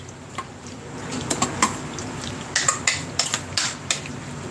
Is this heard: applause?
no